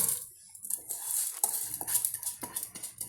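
Basmati rice goes into a pressure cooker, heard as light clinks, rattles and scraping of a utensil against metal, with soft pattering of grains.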